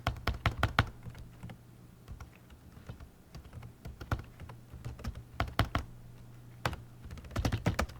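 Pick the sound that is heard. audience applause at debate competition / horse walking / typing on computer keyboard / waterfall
typing on computer keyboard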